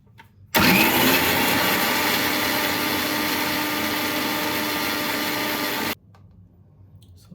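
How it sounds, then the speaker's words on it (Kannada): A kitchen mixer grinder whirs loudly and steadily for about five seconds while grinding green chilli, mint and coriander with a little water, then stops abruptly. "ಇವಾಗ ಮಿಕ್ಸಿಲಿ ಗಿರ್ರ ಅನ್ಸೋಣ ಬನ್ನಿ"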